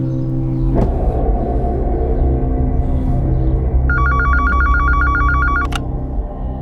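A telephone bell rings in a tense crime-drama scene over a low steady rumble, one ringing burst near the start and a longer electronic ring later, without talk.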